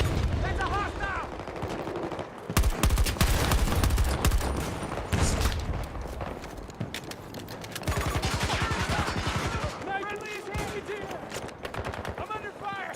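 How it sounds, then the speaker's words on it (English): Rapid automatic gunfire in a multiplayer shooter video game, loud bursts of machine-gun fire and scattered shots filling the whole stretch, with game voices and chatter heard between and under the shooting. "I'm under fire!"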